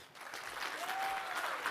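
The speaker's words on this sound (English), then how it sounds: "round of applause for Jesse Tadlock" Applause from an audience at a cybersecurity presentation, a soft, even wash of many hands clapping at a distance, quiet and sustained for a couple of seconds.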